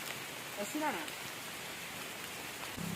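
Rain falling on the ghat road to Srisailam, a steady hiss of drops close by with a brief voiced murmur in the middle.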